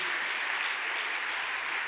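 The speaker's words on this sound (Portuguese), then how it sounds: "Mais um forte aplauso a Jesus Cristo." Applause from a church conference audience, a dense, even wash of clapping that holds steady at moderate volume throughout.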